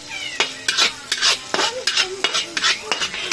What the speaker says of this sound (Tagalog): Gisa na tayo ng bawang sibuyas.